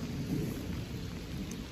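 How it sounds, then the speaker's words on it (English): Distant thunder rumbles low and soft beneath a steady patter of rain, with no voices. "There's your thunder."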